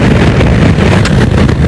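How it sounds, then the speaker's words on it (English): Strong crosswind buffets the microphone during a motorcycle ride at the Bruntingthorpe track, a continuous loud low roar of wind noise with no talk. "It's really windy out here though"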